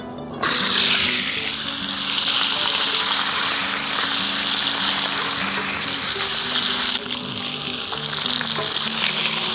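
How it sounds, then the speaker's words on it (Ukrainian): Potatoes sizzle steadily and loudly in a hot saj pan, a continuous crackling fry with no talking. "Поки наша картопелька смажиться"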